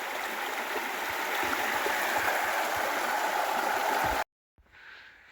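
Steady rushing of a stream flowing over rocks at a trail crossing on Butter Gap Trail, loud and continuous, then abruptly cut off before a quieter stretch of water.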